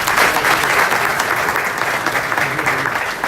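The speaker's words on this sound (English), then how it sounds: "Let's clap in for them." A seminar audience applauds loudly and steadily, a dense, continuous wash of clapping that fills the whole stretch without letting up.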